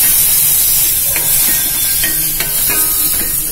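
Soup ingredients sauté in a hot pan for a kidney-stone remedy soup, a loud continuous hiss and sizzle with a few light clinks of a spoon stirring against the pan.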